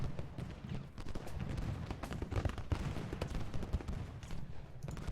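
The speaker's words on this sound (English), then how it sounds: "That is some close firing there." Dense, continuous musket volleys and rattling rifle fire from a Civil War battle in the strategy game Ultimate General: Gettysburg, with close, loud overlapping shots rolling steadily throughout.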